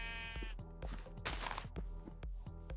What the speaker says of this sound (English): 2 white sheep and a black sheep.